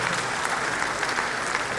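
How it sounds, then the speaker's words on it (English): Dense, sustained audience applause for a lecturer after an academic lecture, many hands clapping evenly and loudly for a couple of seconds without a break. "Another round of applause for our lecturer."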